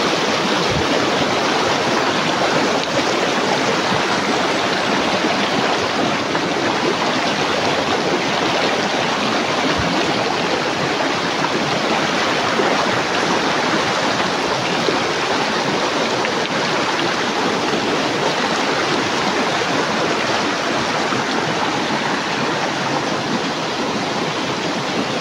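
A flowing creek rushes steadily and loudly throughout, an unbroken broadband wash of water with no voices.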